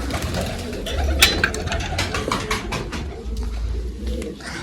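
Low, continuous cooing of pigeons fills the space close by, with light clicking and rattling noises and a faint voice in the background.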